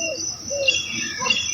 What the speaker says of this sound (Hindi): चिड़िया खुश होकर फसल के पौधे पर बैठ गई और दाना चुगने लगी।